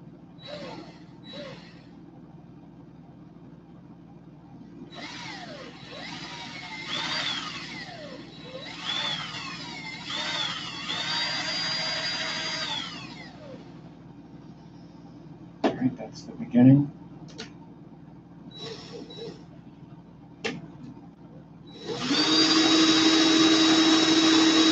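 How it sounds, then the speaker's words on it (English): An electric drill spinning a wire coil for wire art whirs in short bursts at shifting speeds, then spins steadily louder and higher near the end, with clicks and scraping between runs. "I'm going to put my slightly slower drill on, and I'm going to start slow."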